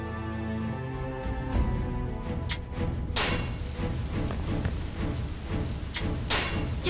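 Steady rain hisses in a Dynasty Warriors battle at Fancheng, rising as a dense, even wash once the opening music fades after about three seconds, with no voices.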